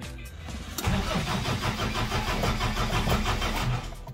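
A 1991 Daihatsu Taft GT F70 4x4 engine cranks briefly, catches and settles into a steady, close idle that rumbles until the clip ends.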